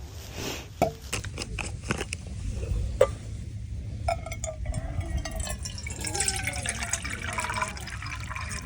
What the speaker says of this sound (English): And I'll fill this up with water.